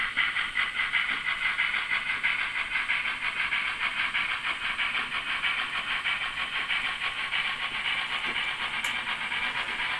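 A 15XX steam locomotive pulls away in a steady, loud hiss of escaping steam that goes on without a break, with faint mechanical clanks underneath and no voices.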